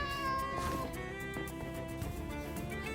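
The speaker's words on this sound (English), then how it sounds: "Little Miss Calico Cat." A calico cat in the video game Minecraft gives a few short meows, with soft game ambience underneath.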